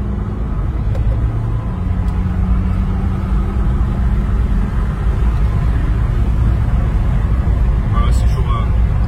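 BMW X3 with a 350 hp engine driven in manual mode: a steady, loud engine drone and low rumble with road noise throughout, and a voice speaking over it.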